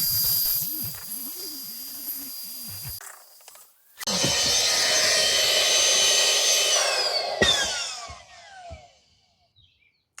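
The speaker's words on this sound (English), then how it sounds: "I cannot believe how fast this little pump worked" Small electric air pump inflating a camping mattress inside a Tesla Model Y, a steady loud whirring hiss that starts abruptly, runs for several seconds near the microphone, then winds down, with a fainter motor whine before it.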